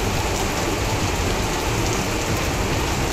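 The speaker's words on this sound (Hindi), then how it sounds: "पिछले दो दिन से लगातार बारिश हो रही है।" Heavy, steady rain pours down in Uttarakhand, a dense continuous hiss of drops hitting surfaces, loud and close with no pauses and no voices.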